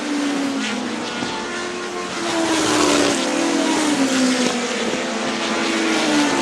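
Race cars lap a short track during a NEMA feature race, their engines droning loud and steady with a rising pitch sweep as they pass, with no talk over the roar.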